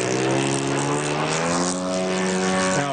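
A small unmanned border patrol drone plane launches with its propeller engine running, a loud, steady buzzing drone that stays close, with a slight pitch drop near the end and no talking.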